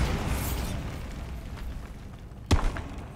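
Bombarda explosion spell cast in the Hogwarts Legacy video game, a single sharp blast that bursts up loud over a steady low background rumble and then fades quickly.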